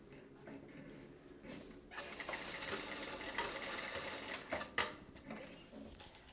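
Sewing machine stitching overlapped elastic ends together on a blouse, rapid mechanical chattering bursts that start, pause and resume with backstitching, close and moderately loud with small clicks between runs.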